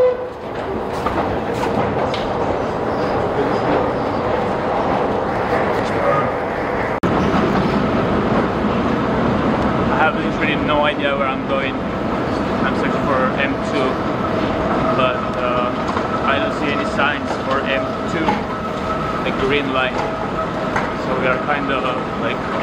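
Metro train in Turkey rattles steadily throughout, with continuous rolling rail noise and clatter heard from inside or close by, while people talk over it.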